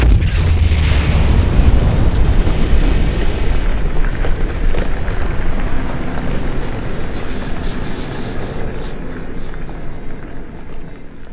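Fireworks from Hometown Fireworks in Huntington, Indiana, exploding in a loud, continuous barrage of booms and crackling bursts that stays dense throughout, fading slightly toward the end.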